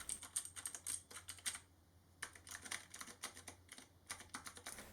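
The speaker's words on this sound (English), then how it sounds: "Here's me stenoing on my cheap N-key rollover keyboard with the regular keycaps" Rapid clusters of keyboard clacks, stenography typed in quick chorded bursts on a cheap N-key rollover keyboard with regular keycaps, with a short pause midway, close and fairly quiet.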